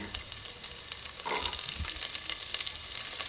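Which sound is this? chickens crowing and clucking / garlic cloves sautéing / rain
garlic cloves sautéing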